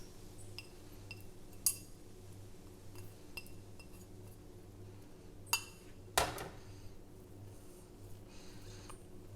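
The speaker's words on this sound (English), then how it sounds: "And we're just going to fluff the rice." A utensil fluffs cooked spring onion rice in a pot, giving faint, sparse clinks and taps of metal against the pot, with a few sharper knocks spaced irregularly over soft background hiss.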